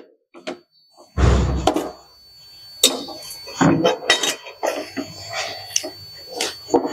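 Vegetables being mixed by hand with ground mustard in a bowl for a bati chorchori, giving intermittent squelching and soft clinks against the bowl, irregular and close.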